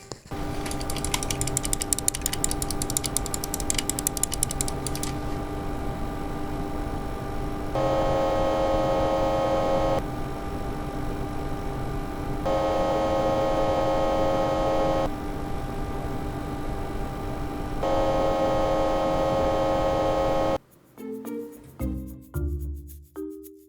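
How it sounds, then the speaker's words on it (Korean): A loud pump in a cheap 360mm three-fan AIO liquid CPU cooler gives a steady mechanical hum with a faint ratcheting buzz and a tone that rises and drops every few seconds, then cuts out before some brief unrelated knocks. "이게 펌프 소리가 너무 큰데?"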